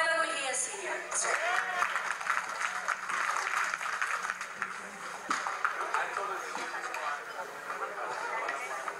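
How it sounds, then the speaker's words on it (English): Audience applause at an SNPASC gathering fills the hall as a steady, dense patter of clapping under a voice talking throughout. "let's give a big round of applause to Mr."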